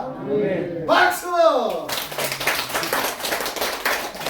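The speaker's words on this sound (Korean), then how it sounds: "박수!" Group clapping at a church evangelism gathering in a senior citizens' hall in Hapcheon, Korea: a burst of dense, fairly close hand claps following a spoken call, continuing steadily under the room's voices.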